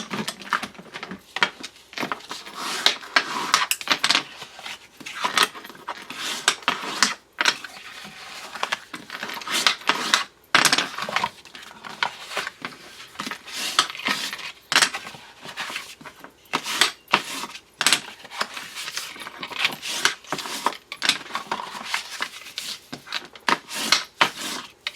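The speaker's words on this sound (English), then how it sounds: "Okay, let's fold it on all of those lines." Paper being folded along a series of score lines for a Halloween craft, heard as a steady run of close, crisp creasing and rubbing strokes repeating throughout with no voices.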